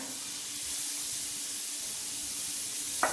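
Butter sizzles in a cast iron skillet as chopped shallots go in: a steady, close, even hiss of frying, with a brief sharper crackle near the end.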